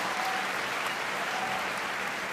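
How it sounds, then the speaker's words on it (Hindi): Steady applause from an audience, dense and even throughout, with no voices standing out. "तालियां हो जाए साहब"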